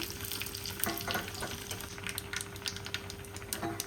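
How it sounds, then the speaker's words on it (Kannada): Mustard seeds, cumin, dry red chillies and curry leaves crackle in hot ghee for an egg rasam tempering, a dense close sizzle with rapid sharp pops throughout. "ಇವಾಗ ನಾನು ಸ್ವಲ್ಪ ಸಾಸಿವೆ ಹಾಗೆ ಜೀರಿಗೆ ಜೊತೆಗೆ ಒಣಮೆಣಸನ್ನು ಕೂಡ ಹಾಕ್ತಾ ಇದ್ದೀನಿ"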